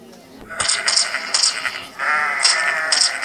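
Goat in Minecraft bleating in several short, bright bursts close up, a pause between them, with a young player speaking Turkish at the start.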